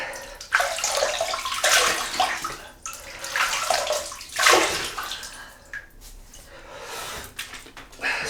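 Running water and splashes as a man wets his face at a sink before a shave with a replica 1959 Gillette Super Speed Red Tip razor, close and irregular in several bursts.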